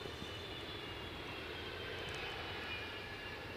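A plane takes off from Edinburgh Airport in windy conditions, its engines a steady, distant, broadband roar mixed with wind rumble, with no talk.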